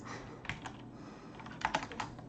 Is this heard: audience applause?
no